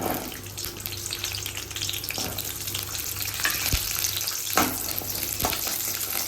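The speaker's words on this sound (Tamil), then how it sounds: "15 சின்ன வெங்காயத்தை வந்து இப்போ அதில் போட்டுக்கிறேன்." Small shallots sizzle in hot oil for a Karnataka-style mushroom donne biryani, a constant loud frying hiss with occasional clinks and stirring sounds, no voices.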